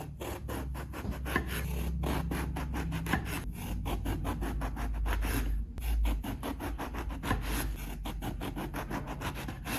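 Bread knife sawing through eggplant into rounds about 3/8 inch thick, a rapid, even rasping back-and-forth rhythm, close and soft, continuing steadily with no talking.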